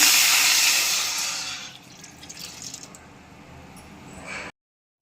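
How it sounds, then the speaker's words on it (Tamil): Water poured into a heated kadai for bread halwa sugar syrup, a steady splashing pour that fades after about two seconds into softer trickling and sizzling before stopping. "கடாயை காய வச்சுட்டு இப்போ இது கூடவே ஒரு கப் அளவு தண்ணி ஊற்றிக்கலாம்"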